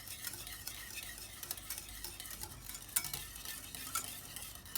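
Chutney being stirred into yogurt raita for dahi phulkiyan, a soft, continuous mixing sound, spoon scraping lightly against the bowl with faint clinks, close by and steady, no one talking.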